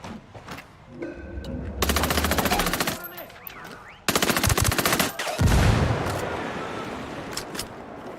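Automatic gunfire in the video game Tom Clancy's Ghost Recon Wildlands, loud sustained machine-gun bursts broken by short pauses, followed by a heavy boom that fades into a lingering rumble.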